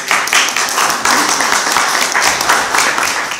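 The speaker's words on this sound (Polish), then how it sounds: "i to panu Jackowi Sutrykowi wielkie brawa" Audience applause fills a hall at a Wrocław memorial book ceremony honouring Eugenio Barba, a dense, steady wash of many hands clapping close and loud for the whole stretch.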